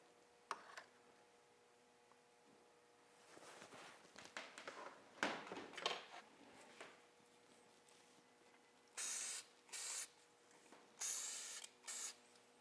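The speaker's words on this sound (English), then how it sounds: "I am going to spray this one with a little isocoat also" Isocoat sprayable liquid wax misted onto a reproduction fish during taxidermy casting, heard as several short hissing spray bursts near the end after quieter handling sounds.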